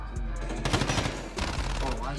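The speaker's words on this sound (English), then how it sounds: "teammate shooting this fucking no one?" A teammate fires bursts of gunfire in Call of Duty Modern Warfare, loud and close, with rapid repeated shots in two clusters over a dense, noisy mix.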